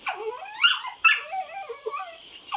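A dog whimpers and gives short high yips, close and alone, with sharp rising cries and whiny tones over about two and a half seconds.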